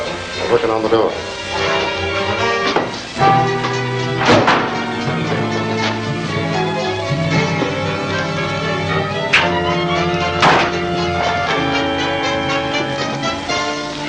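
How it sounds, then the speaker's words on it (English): Men force a door in a 1940 serial film, heard as repeated heavy thumps and bangs scattered across a dense, loud soundtrack of dramatic orchestral music, with voices talking. "They're working on the door."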